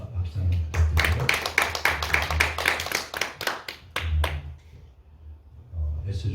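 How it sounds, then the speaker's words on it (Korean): A church congregation claps for the choir in a short burst of applause lasting a few seconds, close and fairly loud, with speech heard before and after the clapping. "박수 한번 부탁드려요"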